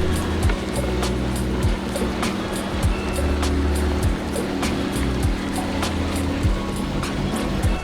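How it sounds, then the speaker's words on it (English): Choppy Pacific Ocean seas washing around a sailboat mid-crossing: steady rushing water and slapping waves under a constant low rumble, with regular sharp knocks recurring throughout. "it's kind of choppy seas"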